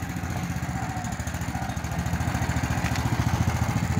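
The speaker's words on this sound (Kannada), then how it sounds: "ಇದು ಬೈಕ್ ಟ್ರಾಲಿ." A bike trolley engine runs steadily with a rapid, throbbing putter and clattering beat that grows slightly louder midway, with no voices.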